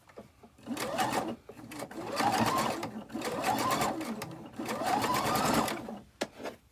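A sewing machine stitches quilt fabric in four rapid bursts of needle chatter separated by short pauses, close and fairly loud, with no one talking.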